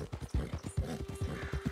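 Horse hooves clip-clop quickly and steadily as a rider gallops in Red Dead Redemption 2, close and rhythmic, with no speech.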